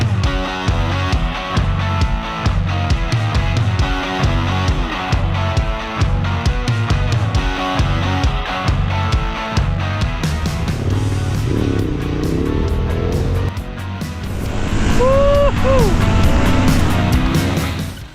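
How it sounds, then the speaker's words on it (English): A big V-twin street motorcycle engine pulls steadily and loudly with a dense rhythmic throb, rising in revs toward the end, while a voice talks over it. "The V-twin engine is pulling very smooth."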